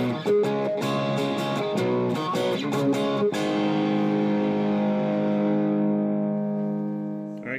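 A distorted Lightning Boy electric guitar with Mortal Coil pickups plays choppy, rhythmic chords, then lets one heavy chord ring out and slowly fade.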